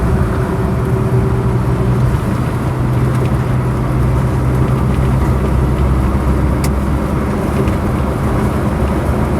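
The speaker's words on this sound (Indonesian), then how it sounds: "mobil-mobil angkutan berat yang lewat di sini" Heavy freight trucks roll past on a road near the Wonogiri border at night, a loud, steady low engine rumble and road roar that fills the whole stretch without a break.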